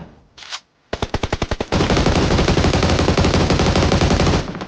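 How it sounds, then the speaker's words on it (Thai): Automatic gunfire in the mobile battle royale game PUBG Mobile: a brief burst, then a string of rapid single shots that turns into a loud continuous machine-gun stream lasting several seconds, close and dominant. "ให้ตายเถอะปีเตอร์กันเขายิงกันเขายิงกัน"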